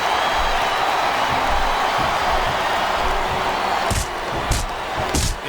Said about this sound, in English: It sounds like this capacity crowd has something on their minds, Taz.